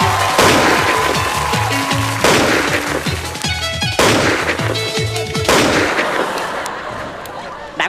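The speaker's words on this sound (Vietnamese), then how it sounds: "đạn bắn quá trời, thằng nào trúng đạn vậy?" Loud bursts of gunfire sound effects fill a comedy skit, rapid repeated shots in several clusters with booming impacts, continuing steadily before tapering off near the end.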